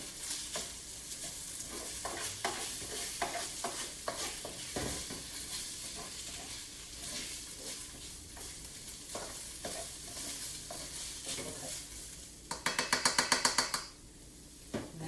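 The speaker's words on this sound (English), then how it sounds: "now we'll try to get it mixed up really good because we're gonna put it on another 1 minute. So let's stir it up a bit." Egg foo young with chicken sizzles while a utensil stirs and scrapes it around a frying pan, close rhythmic scraping strokes over constant frying, ending in a quick burst of rapid metallic taps.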